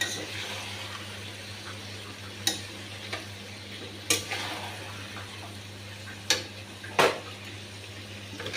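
Chicken is added to a well-cooked spice masala and stirred in a pan: a steady soft sizzle of frying with a few sharp spoon scrapes against the metal, close by and with no talking.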